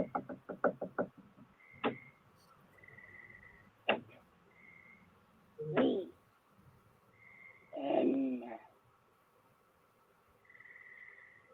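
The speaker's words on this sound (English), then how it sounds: "The tension escalated as scratching and knocking sounds permeated the audio feed" Knocking in a played-back paranormal audio recording: a rapid burst of knocks, then single sharp knocks and two heavier thuds spaced a couple of seconds apart, over a quiet background with faint intermittent electronic tones.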